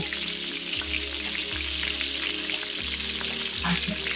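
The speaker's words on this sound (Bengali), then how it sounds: "এবার মাছের এক পিঠ এভাবে লাল করে ভাজা হয়ে গেলে আস্তে আস্তে উল্টে অপর পিঠটাও ভেজে নেব" Bata fish frying in hot oil, a steady bright sizzle that runs without a break, with light crackles and a brief louder spatter near the end as a piece is turned.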